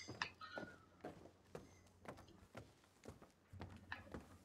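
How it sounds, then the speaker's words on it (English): Footsteps of a player character in a first-person shooter video game, a steady series of distinct close steps, fairly loud and evenly paced, with faint game ambience between them. "Damn, my footsteps are loud"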